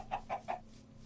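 Three quick, soft clucks from a chicken in the game Minecraft, evenly spaced and fairly close, then quiet over a low background hum.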